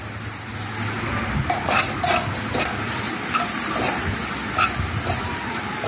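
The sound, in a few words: green chillies frying and stirred in a pan for rasam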